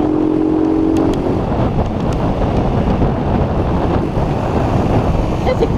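A Honda Titan 125 motorcycle from 1999 with original engine and no air filter runs flat out in fifth gear, a steady droning engine hum buffeted by heavy wind rush, with a brief whine early on.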